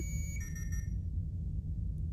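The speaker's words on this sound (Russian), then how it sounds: "Почему он так пищало?" An electronic alarm in the sci-fi game Duskers sounds a brief high-pitched tonal beep over a heavy low rumbling drone, the tone stopping after about a second while the drone continues.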